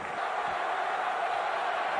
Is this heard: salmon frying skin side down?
no